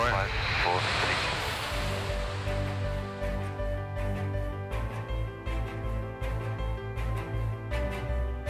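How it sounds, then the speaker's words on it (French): An electric airplane passes in flight with a soft broadband whoosh, strongest at the start and then fading, under people talking and faint music. "c'est vous qui volez un avion électrique?"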